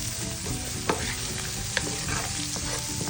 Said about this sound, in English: I'm going to give it a little stir fry